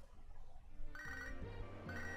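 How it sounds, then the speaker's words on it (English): A phone rings in the Pokemon Soul Silver video game, a short synthetic chiptune ringtone that repeats in bursts over a low background hum. "No, I do not want to answer the phone to Lyra"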